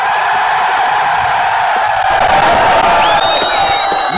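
A large crowd at a PTI political rally in Lahore roars and cheers continuously, loud and close, with shouts rising above the dense wash of voices.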